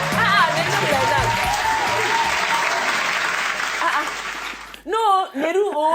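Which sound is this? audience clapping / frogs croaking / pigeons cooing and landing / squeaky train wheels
audience clapping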